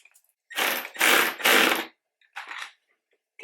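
A screw being driven back into a plastic mud flap on a 2019-2021 Toyota RAV4, likely with a power driver: three close whirring bursts in quick succession, then a shorter fourth after a pause.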